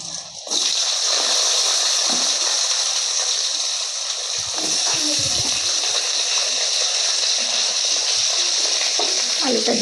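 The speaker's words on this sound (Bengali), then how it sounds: "আমি হালকা করে আলুগুলো ভেজে নিচ্ছি" Potatoes fry in hot oil in a pan, already used for frying fish, giving a loud, continuous sizzle that bursts up as they go in. Occasional stirring and spattering break through the hiss.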